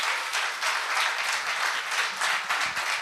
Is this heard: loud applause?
yes